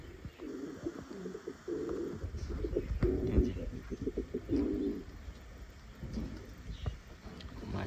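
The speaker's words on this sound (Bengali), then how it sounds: "এর ডাকটা সব থেকে পছন্দের আমার, ডাকে কি সুন্দর।" A Pakistani pigeon cooing close by in a loft, several throaty low coos in repeated bursts with soft clicks and rustling around them.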